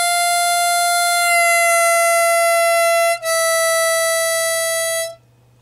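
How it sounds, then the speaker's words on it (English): A 10-hole harmonica plays a sustained draw note that bends downward in pitch, breaks briefly, then holds a steady blown note before stopping, loud and close with no talk. "By the way, the first note I'm playing is a draw note,"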